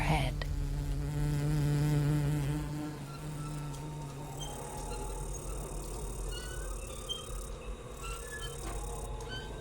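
Insects buzzing in a nature setting, a droning, wavering hum with fluctuating pitch, joined by higher chirps and whines, moderately close and continuous throughout.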